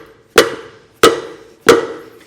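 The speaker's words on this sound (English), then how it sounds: "I'm going to hit the end of my screwdriver to help pop it out" The end of a screwdriver is struck to pop out a trailer hub grease seal, giving three sharp, loud knocks about two-thirds of a second apart, close by and with no talk.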